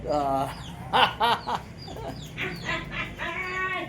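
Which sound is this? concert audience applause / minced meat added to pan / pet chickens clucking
pet chickens clucking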